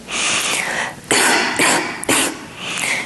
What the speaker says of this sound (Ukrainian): З диханням спробуйте покашляти